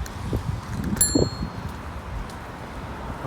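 A bicycle bell gives one bright ding on a night ride along a sidewalk, ringing briefly over wind and road rumble.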